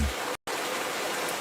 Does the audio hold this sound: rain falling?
yes